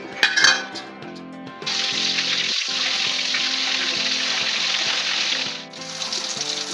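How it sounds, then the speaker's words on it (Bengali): Eggs fry in hot oil, a small clink at the start, then a loud, continuous close sizzle that dips briefly near the end before resuming, with no talking. "ডিমটাও ভেজে ফেলবো।"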